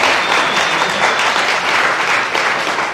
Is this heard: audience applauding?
yes